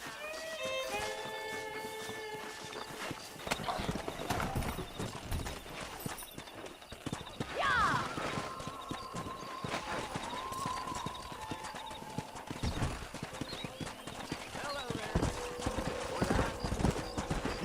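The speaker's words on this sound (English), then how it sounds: "Let's see if we can't wrangle some horses." Horses in the Red Dead Redemption video game: steady clip-clop of hooves running throughout, with a whinny rising near the middle over a busy background of game sound.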